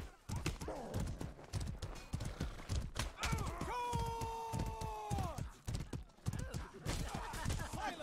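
Hooves clip-clop in a brisk steady rhythm in a video game, and midway a horse lets out a long whinny before the trotting continues.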